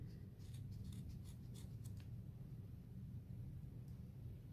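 Scissors snip through string loops on a clay shape art piece: a quick run of light, crisp cuts in the first two seconds over a constant low room hum, then mostly just the hum.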